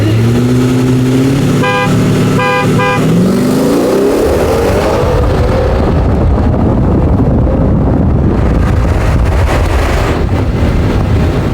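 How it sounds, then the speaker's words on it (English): A loud car horn sounds in a few short honks early on, then gives way to heavy wind rumble and engine noise. "Who's honking? You honking?"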